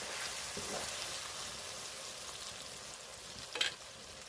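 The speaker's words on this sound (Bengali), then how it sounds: "মাংসটা ভালো করে কষাবো" Country chicken meat sizzles in a pan as it is sautéed with its masala, a faint, even frying hiss with one brief scrape of a stirring spoon near the end.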